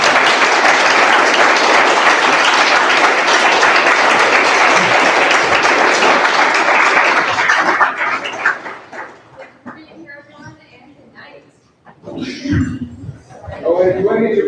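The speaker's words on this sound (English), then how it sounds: "Maybe we should just take one more round of applause." Audience at a literary reading series gives a loud, sustained round of applause for about eight seconds, then it fades into scattered murmurs, laughter and people talking.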